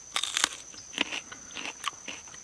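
Biting into a Sugar Rush Peach pepper, with a few crisp, close crunches and chewing bursts spread over a couple of seconds in a quiet room.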